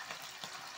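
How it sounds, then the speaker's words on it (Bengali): Chicken pieces frying in hot oil for an eggless chili chicken, a soft, steady sizzle with faint crackles throughout, low and close, with no talking. "এভাবেই আমি বাকি চিকেন গুলো ভেজে নেব।"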